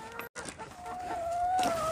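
Chickens on a farm in winter cluck and call close by, with a short drawn-out vocal note over a quiet outdoor background.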